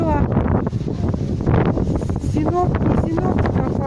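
Very strong cold wind buffets the microphone outdoors in a steady loud roar, with faint bird calls and a voice speaking underneath.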